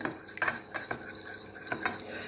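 Egg yolk being whisked with milk in a bowl for a brioche glaze gives a few quick, light clinks of a utensil against the dish, spaced irregularly, close and fairly quiet, with no voices.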